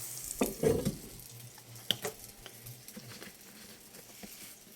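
Soft sizzling and crackling of sour-cream flatbread frying in a pan with a little oil, with a few clinks and scrapes near the start, fairly quiet throughout.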